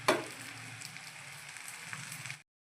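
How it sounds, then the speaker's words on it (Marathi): Oil sizzles steadily in a pan while besan spinach bhakri fries, a soft continuous crackle with a brief louder burst at the start, close and alone without talk. "आता मी याला परत साईडने पण तेल सोडणार आहे थोडं।"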